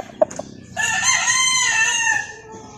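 A bullstag gamefowl rooster crows once, a loud, close, harmonic cock-a-doodle-doo lasting over a second, preceded by a couple of short clucks or clicks.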